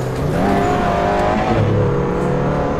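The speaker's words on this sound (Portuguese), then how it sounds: "Escuta o som do meu Corsa." A Chevrolet Corsa in the Assetto Corsa racing game drones steadily under throttle, its engine note shifting pitch as it pulls away, loud and continuous with a faint tire squeal.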